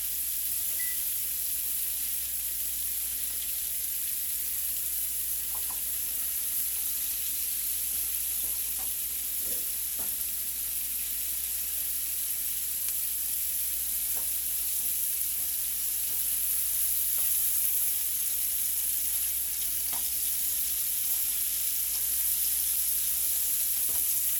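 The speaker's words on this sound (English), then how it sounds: "Just let these keep frying." Steady, close-up sizzling of cube steak frying in a pan, a constant hiss with occasional soft pops and clinks, no voices.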